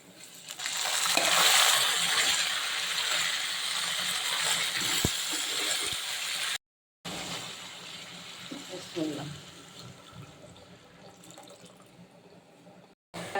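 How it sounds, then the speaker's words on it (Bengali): Boiled papaya dropped into hot oil tempered with nigella seeds, a steady broad sizzle that swells early and settles, with a few small clinks and taps toward the end. "সিদ্ধ করে রাখা পেঁপে দিয়ে দিব।"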